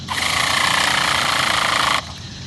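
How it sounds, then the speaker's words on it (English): An electric starter spins an RC nitro engine fitted with a tuned pipe, a loud, harsh buzzing whir held for about two seconds before it cuts off abruptly into quieter background noise. "we're going to turn over the engine a few times"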